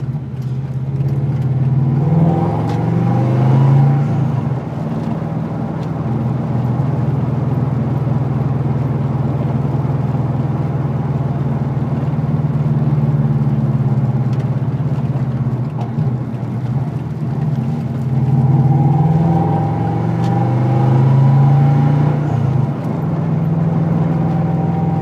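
A Subaru Impreza wagon drives through town, its engine a steady mid-pitched drone with gentle swells as the throttle rises and eases, close and continuous with no talking.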